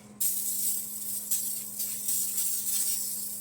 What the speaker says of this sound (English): Spraying down this one so when I get ready to do